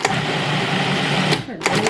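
A food processor pulses salsa ingredients such as cilantro and lime, giving a steady whirring run that cuts out briefly and then returns in short bursts, heard up close.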